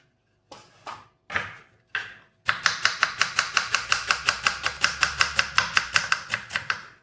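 A knife cuts onions on a board, first with three separate slow strokes, then with a fast, even run of about twenty crisp chops, close and loud.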